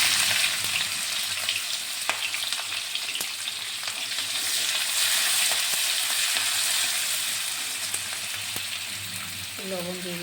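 Finely chopped onion and green chili frying in hot oil, a close, steady crackling sizzle with scattered sharp pops and stirring clicks, and a voice briefly starting at the end.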